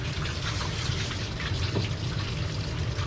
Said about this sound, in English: I keep the sprayer right against the body